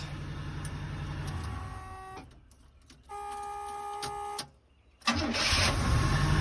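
An Oldsmobile Cutlass engine fitted with a good starter cranks and catches, running loud with a steady mechanical whine, then dips and falls nearly silent twice before picking back up strongly, close to the microphone.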